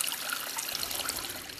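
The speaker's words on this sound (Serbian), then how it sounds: "a izvor žubori." A spring deep in a forest at Osmanovac babbles and trickles close by in a light breeze, making a steady, bright splashing that continues unbroken throughout.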